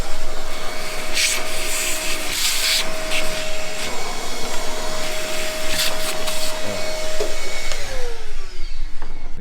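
Vacuum cleaner running steadily and loud throughout, used to clean out a rat-infested 302 Cleveland Ford engine in an LTD, with a sustained whine that drops in pitch as it shuts down near the end.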